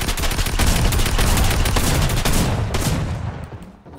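Rapid video game gunfire fills the clip with dense, continuous bursts of shots, loud and close, tapering off near the end, with no talk.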